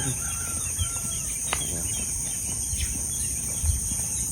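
Birds, including barred rails, call outdoors over a steady high drone of crickets, with a few brief chirps and clucks scattered through the continuous background.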